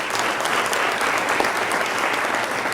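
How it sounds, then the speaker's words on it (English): A large audience at a school board workshop meeting claps in steady, dense applause, loud and sustained throughout with no voices rising above it. "So a big round of applause for Ziamara as well."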